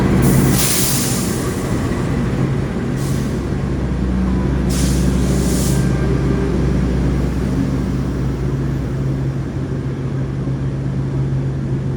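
A replacement Turangga train set rolls into a station with a loud, continuous rumble and low engine drone, punctuated by several sharp hissing air-brake bursts close by.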